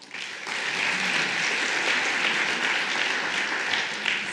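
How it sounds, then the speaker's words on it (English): A room full of people at a legal tech startup pitch event breaks into steady, dense applause, a loud, even wash of clapping held for about four seconds with no speech over it. "let's give him a round of applause"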